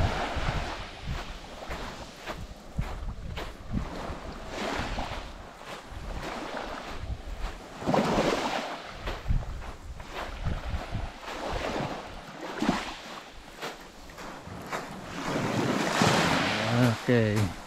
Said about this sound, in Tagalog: Mahangin na siya Mahangin na.